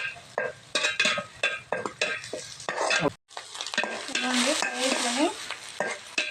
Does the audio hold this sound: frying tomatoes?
yes